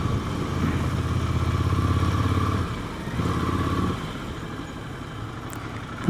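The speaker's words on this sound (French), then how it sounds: "Ah, il y a un groupe de motos là-bas." Several motorcycle engines rumble at a moderate distance on a mountain pass road in Ariège, Pyrenees, a steady idling drone that swells and fades as the bikes move, with no voices.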